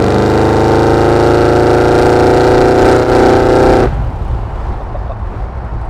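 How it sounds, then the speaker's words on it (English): A 1986 Chevrolet K5 Blazer 4x4 with a 383 stroker V8 revs loudly and steadily up close, holding a rich, throaty roar for about four seconds before cutting off to a low idle rumble. "Putting that 383 stroker to work."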